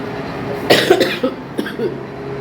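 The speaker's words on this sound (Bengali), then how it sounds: "কাশি তো আমার আছেই" Several short coughs in a row from a person in a home kitchen, fairly close and clear, separated by brief pauses against a quiet background.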